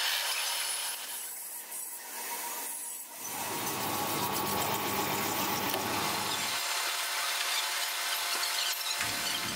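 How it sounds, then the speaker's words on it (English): A metal lathe runs in reverse for an inside cut on a ring-shaped dust shroud part, giving a steady, noisy rushing hum with a grinding cutting texture that deepens partway through and stays up close throughout. "I'm switching the lathe to reverse for the inside cut"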